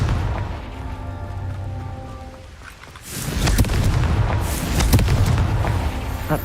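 A Confringo spell explosion in Hogwarts Legacy: after a quieter stretch of humming game sound, a loud booming blast erupts and rolls on with crackling debris for several seconds.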